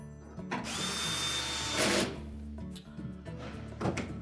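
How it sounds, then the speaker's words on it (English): Power drill driving screws across the back of a Whirlpool washer console, a close whirring burst lasting about a second and a half followed by several short clicks and clatters of handling, no voices. "install the 3 screws across the back"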